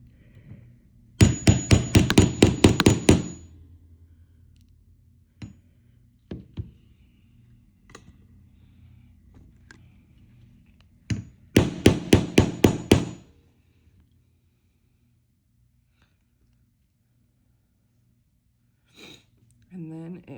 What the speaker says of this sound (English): Hopefully I have enough room to hammer.